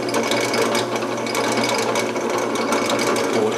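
A drill press runs steadily while boring holes for a cabinet handle, a continuous whirring and grinding hum with faint rhythmic clicking, close and fairly loud throughout with no voices.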